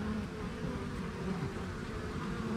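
Honeybees buzzing during a hive cutout, a steady, close drone of many wings with no break, faint and even throughout.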